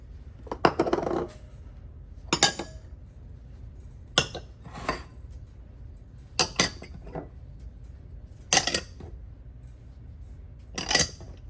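Pumpkin chocolate chip cookie ingredients, including white chocolate chips, are tipped into a bowl in a series of separate clinks and rattles. Each burst is short and sharp, spaced a second or two apart, with no talking.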